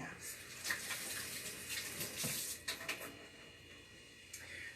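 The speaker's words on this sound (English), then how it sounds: "Wash my hands." Kitchen tap running steadily while hands are washed, close and fairly quiet, with a few small splashes and clunks over the flow.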